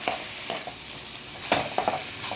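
A spoon stirring spinach and potato bhaji in a frying pan: a steady soft sizzle with several sharp scraping clacks of utensil against metal, close and clear with no talking.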